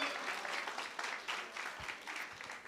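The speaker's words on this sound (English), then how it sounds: "Give a round of applause for Uzethu." Steady applause from a crowd at a business pitching workshop in Umlazi, continuous clapping filling the whole moment at a fairly close, even level.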